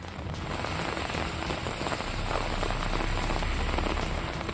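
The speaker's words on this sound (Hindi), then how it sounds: "रामबन में पिछले 3 दिनों से तेज बारिश हो रही है।" Heavy rain pours steadily during days of downpour in Ramban, Jammu and Kashmir, a dense, continuous hiss of drops striking surfaces close by, loud and unbroken with no voices.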